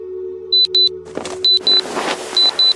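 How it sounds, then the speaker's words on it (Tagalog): An alarm clock rings loudly in short, piercing electronic beeps, heard in pairs of two quick tones repeated three times, with a low steady hum and some rustling between them. "marinig ang malakas na tunog ng alarm clock ko"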